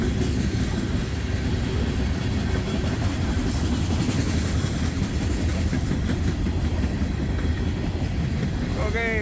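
A freight train with a distributed power unit locomotive at the rear rolls past, a steady rumble of wheels and cars with faint clickety-clack and engine drone, continuous and fairly close, with a brief high squeal near the end.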